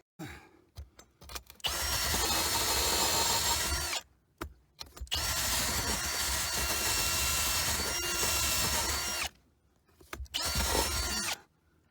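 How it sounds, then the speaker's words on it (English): A power drill with a long bit whirs steadily in long bursts, stopping and restarting several times, with a grinding, rattling edge as it bores through wood to widen a cable hole. "So now I got to drill that out a little more so I can get the new cable through"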